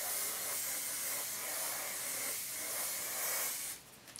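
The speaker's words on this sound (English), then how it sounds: "Okay, and I'm gonna take a little bit of hairspray." KMS Anti-Humidity Seal hairspray sprayed from a can onto hair, a continuous soft close hiss lasting nearly four seconds before cutting off, with no talking.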